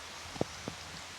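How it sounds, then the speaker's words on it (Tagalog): Rain falling outdoors, a steady soft hiss of drops with two brief louder drips standing out, no voices. "Maulan."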